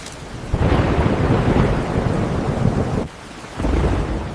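Heavy rain and rolling thunder pour down in a dense, loud roar that swells in two long surges with a short quieter dip between them, no voices heard.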